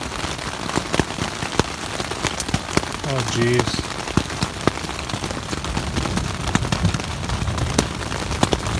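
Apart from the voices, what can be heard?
big hailstones falling on a tent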